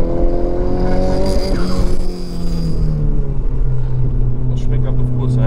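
A car with a very powerful engine, set up for drifting, revs hard as it slides sideways; a loud, sustained engine roar swells and falls in pitch, with a voice partly over it.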